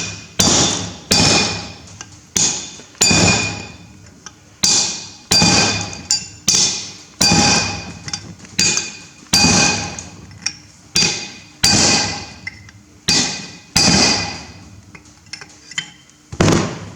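Sharp metallic hammer blows strike a bearing collar on a Massey Ferguson 135 tractor rear axle, about twenty ringing impacts in irregular bursts, close and loud, with no talk.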